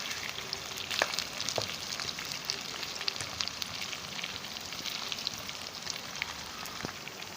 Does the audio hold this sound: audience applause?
no